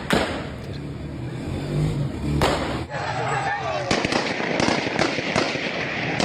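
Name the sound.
gunshots in a city street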